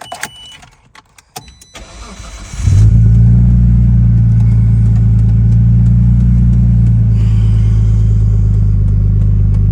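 Nissan Skyline R33 GTS-T with an RB25DET turbocharged straight-six cranks briefly after some clicks and handling noise, then fires and settles into a loud, steady, close idle for the rest of the clip.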